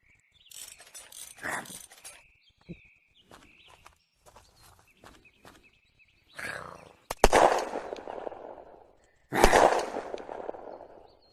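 Gunfire in the game Unturned, a few sharp shots cracking out late in the clip between quieter in-game footsteps and thumps, with a player's voice briefly heard earlier.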